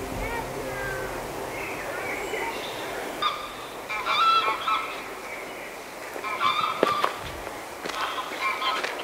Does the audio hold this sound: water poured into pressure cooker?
no